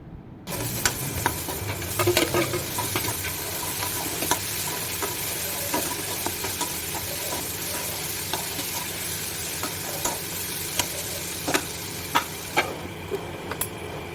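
Potato, paneer, tomato and onion curry sizzles steadily in a pan while being stirred, with a constant loud frying hiss and occasional sharp clicks of a utensil against the pan, no talking.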